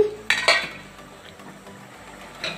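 A steel plate is set as a lid over a pan of fish curry cooked with tamarind paste, giving a couple of sharp metallic clinks up front, then a quiet clatter, a faint scrape and another small knock near the end.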